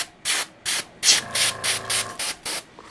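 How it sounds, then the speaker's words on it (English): An airbrush blows alcohol inks across a resin-coated cigar box lid in eight short, even hissing bursts spaced by brief pauses, close and clear with no talking. "My airbrush, and I'm going to blow them a little bit."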